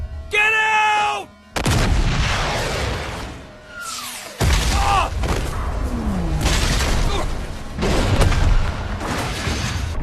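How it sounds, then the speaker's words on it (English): Animated Gundam battle scene with gunfire and explosions: loud booming blasts and rattling bursts come in several waves, with whooshing effects and brief tonal sounds between them. "But gunfire erupted behind it."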